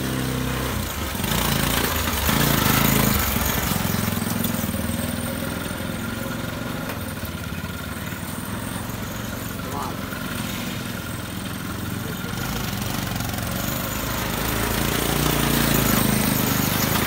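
A homemade tractor built by a village youth runs with a steady, loud mechanical engine chug throughout, close by and continuous, with some voices faintly mixed in.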